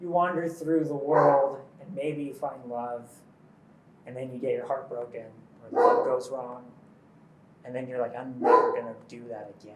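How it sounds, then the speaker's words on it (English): A dog barks and yips faintly in the background under a continuous close conversation between people, its short calls partly masked by the voices. "But and yes, that's a dog, by the way."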